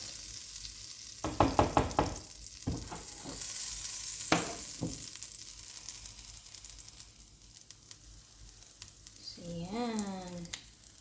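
Banana pancake batter frying in butter in a pan, a steady soft sizzle with scraping and stirring bursts near the start, clattering utensil sounds, and a brief squeaky tone near the end.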